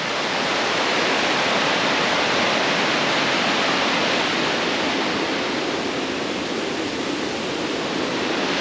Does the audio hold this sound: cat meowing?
no